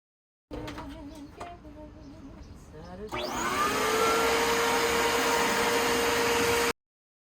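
After a few knocks and clatter, a vacuum cleaner switches on with a rising whine that settles into a loud, steady motor roar close by.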